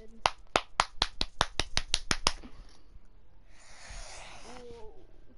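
Hands clapping, about eleven sharp claps in quick, even succession up close, then a hiss of noise and faint voice-like sounds afterward.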